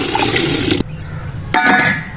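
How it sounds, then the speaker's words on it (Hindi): Water is poured into a cooking pot (degchi) holding liver, a short splashing gush that stops, then a second brief pour follows, close and fairly loud. "ये जी देगची में गया, तुम ऊपर क्या करे जाओ और डाल देंगे जी पानी।"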